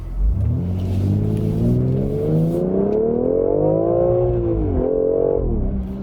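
A 2020 BMW X3 M with an 8-speed ZF automatic accelerates hard through paddle-shifted gears, its engine note climbing loudly, dipping briefly at an upshift, then rising again, heard close from inside the cabin.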